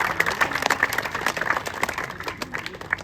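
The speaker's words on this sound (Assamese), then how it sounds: "প্ৰশিক্ষকৰ কাৰণে এটা জোৰদাৰ হাত চাপৰি দিব লাগে" An audience applauds for a football coach at a free football coaching event. The clapping is moderate, uneven and a little distant, with individual claps standing out and faint crowd murmur underneath.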